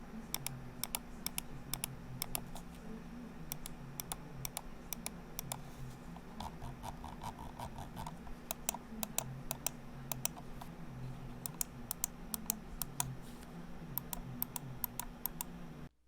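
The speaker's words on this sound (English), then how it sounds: "It sounds like the clicks are trapped inside of a box." Button clicks from an Endgame Gear XM2we wireless gaming mouse, a long, close, irregular run of sharp clicks with a slightly muffled, boxy character, heard alone without talk.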